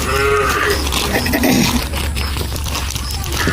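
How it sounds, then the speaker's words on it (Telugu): A farm goat bleats in a garden setting, its voiced calls rising over steady outdoor background noise and rustling, close and fairly loud throughout. "ఇక్కడ నుంచి మా మేక చూడండి"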